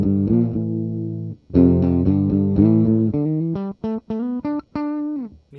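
Electric guitar notes and chords with the tone control turned to zero, giving a dark, muffled tone, strummed then picked in short phrases, played alone with no talking.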